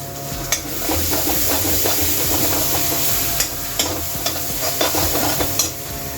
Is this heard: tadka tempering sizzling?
yes